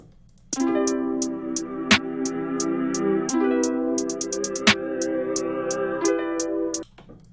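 Ticking hi-hats run over warm sustained RnB chords, briefly breaking into a rapid roll midway through the hook, with sharp claps punctuating and the whole groove cutting off abruptly near the end.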